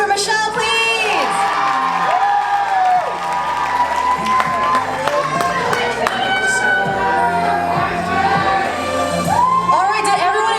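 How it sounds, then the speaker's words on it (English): An audience at a campus pageant claps, cheers and whoops loudly, with high shouts and screams rising over the dense applause throughout. "All right, can I get a round of applause for Michelle,"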